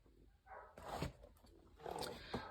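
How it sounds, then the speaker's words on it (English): A pet dog barks and howls wildly in another room, two muffled bursts of cries heard faintly in the background. "Sorry if you hear my dog back there"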